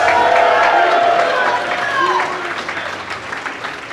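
A crowd at a live speedrunning marathon event cheers and applauds for Team USA, loud at first and then slowly fading, with voices and shouts mixed into the clapping.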